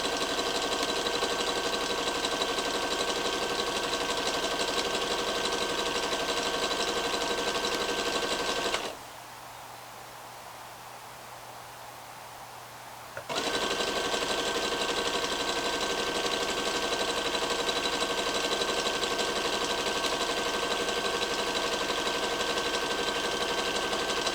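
A sewing machine runs fast and loud, stitching a leggings seam in a dense, continuous mechanical whir, pauses for about four seconds of near quiet, then resumes at the same steady pace to the end.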